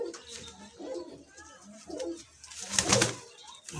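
A pigeon with colored eyes coos in soft low throaty bursts, heard close among rustling and handling noise, with someone speaking nearby.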